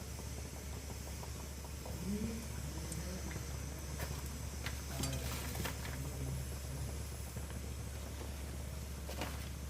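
Ariselu, a rice-flour sweet dough, frying in hot oil on a stove: a steady, soft sizzle runs throughout, with occasional utensil clinks and scrapes and a low background hum.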